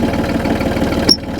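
A compact tractor's engine idles with a steady, low chugging rumble close by, ending in a brief sharp metallic click and a sudden drop in sound.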